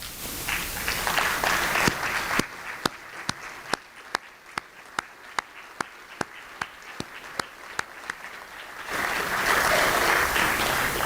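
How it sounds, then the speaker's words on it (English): An audience at a distinguished lecture applauds teachers who rise, first a loud crowd wash, then a slower stretch of evenly spaced single claps, then full applause swelling again at the end. "let's give them a round of applause"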